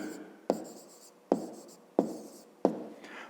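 Pen writing on paper during a fifth-grade maths exercise, four distinct close strokes or taps each followed by a short scratchy trail, evenly spaced and fairly quiet with no talk.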